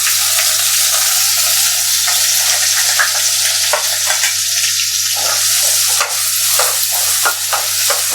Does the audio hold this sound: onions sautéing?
yes